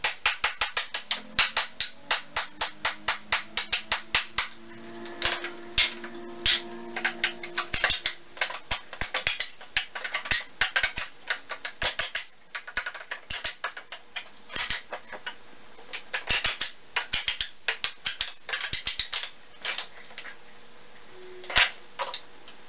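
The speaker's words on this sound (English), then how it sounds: "now I'm hammering off the chunks of wood that are left to get to the nails" Rapid sharp hammer strikes ring out in quick bursts, knocking wood chunks off pallet nails, many metallic blows in uneven runs with brief pauses, close and loud.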